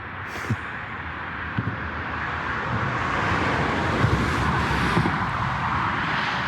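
Steady roar of traffic with cars swishing past on a road, a continuous wash of engine and tire noise with a few brief thumps.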